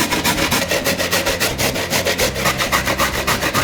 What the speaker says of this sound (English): Now to grate them to try to get 3 cups out of these carrots.